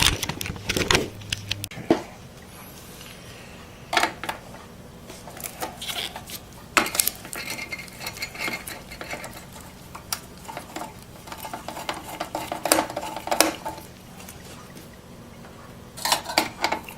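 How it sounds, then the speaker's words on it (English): Screws come out and a heatsink is lifted off a CPU inside a Dell Precision T3500 workstation, giving scattered close metallic clicks, scrapes and light knocks in irregular bursts with quiet gaps between them. "Just unscrew it and pull the heatsink off and take the CPU out and put in a new one."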